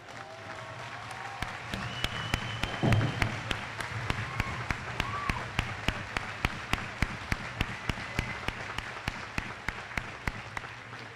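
A graduation ceremony audience applauding for a teacher, sustained clapping from a large crowd with sharp regular near claps standing out, a brief voice early on.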